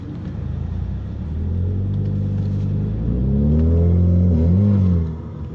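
Ecoboost Mustang on stock Pirelli tyres revving hard during a launch, engine note climbing in rising harmonics as it accelerates, loud and close throughout with no talking.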